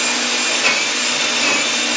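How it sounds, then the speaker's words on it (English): A loud, steady power drill whines continuously through wood while fitting knockdown furniture hardware, a constant high-pitched mechanical drone with no pauses. "you just grab this, drill right through"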